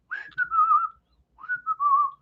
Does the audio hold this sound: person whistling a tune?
yes